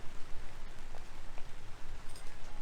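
Light rain sprinkling during a storm with heavy wind and a tornado warning: a steady, soft hiss of fine drops on a surface, continuous and even throughout, with no talking.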